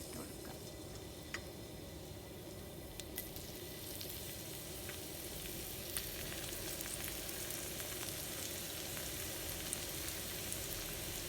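Sliced onions and fenugreek seeds fry in a pan for anchovy thoran, a faint, continuous sizzle with scattered tiny ticks and pops and no voice over it.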